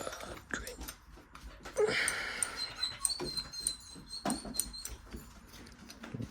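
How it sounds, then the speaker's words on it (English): A dog moves about a room indoors, with soft scuffling and patter broken by thin, high whimpering whines in the middle stretch, all fairly quiet and close. "This dog keeps coming in and out of my room."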